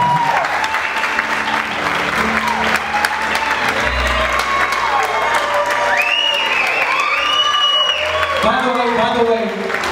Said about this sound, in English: Can we have a nice round of applause for Bert and Mom for doing such a wonderful